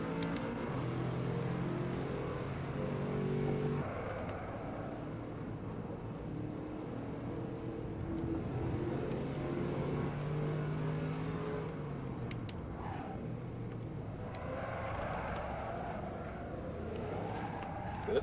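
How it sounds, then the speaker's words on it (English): A 1970s American muscle car's engine in Assetto Corsa at Brands Hatch Indy, a continuous throaty drone with rising and falling revs through gear changes, steady and loud throughout. "1970s American muscle car."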